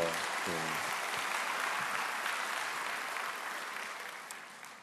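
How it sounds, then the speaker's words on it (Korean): A church congregation gives sustained applause, a dense steady wash of clapping that slowly fades toward the end, with a brief voice near the start. "큰 박수로 축복해 주십시오"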